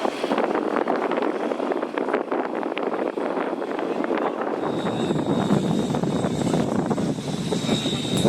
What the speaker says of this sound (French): هنا قاعدين نشوفوا كيفاش طيارات قاعدين يحضروا